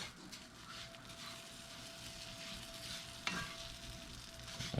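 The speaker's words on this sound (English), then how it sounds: "And you can start hearing it sizzle a little bit." Butter sizzles and crackles steadily in a hot pan, with a faint continuous hiss and a soft scrape partway through.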